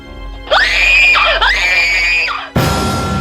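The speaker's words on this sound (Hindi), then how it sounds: "राशि जोर से चीखी" A woman lets out a loud, piercing scream in two long sustained bursts, close and alone, cut off abruptly.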